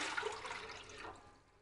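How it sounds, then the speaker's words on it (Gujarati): Water splashes and pours steadily into a cooking pot, a broad rushing sound that fades toward the end. "એના અઢી ભાગનું પાણી અત્યારે આપણે તપેલામાં ઉમેરશું"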